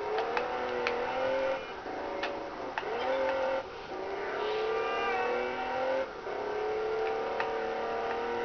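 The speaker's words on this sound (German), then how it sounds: "Das nennt man mal Rallye fahren." Rally-style car driving in the PS2 racing game Test Drive Unlimited, with a continuous engine whine rising and dropping through gear shifts and occasional bumps, steady and fairly loud with no talk.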